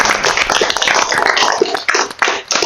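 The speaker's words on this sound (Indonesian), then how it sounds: "Tepuk tangan buat tim juara." An audience claps for a winning team at a school competition event, a dense, loud burst of many hands clapping close by that carries on for a couple of seconds before it thins out and fades near the end.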